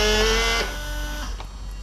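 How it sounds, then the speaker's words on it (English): A Toyota GT86's headlight washers run at close range, a steady whirring pump whine with a hissing spray that cuts off sharply after about half a second and then fades away. "So headlight washers are working now."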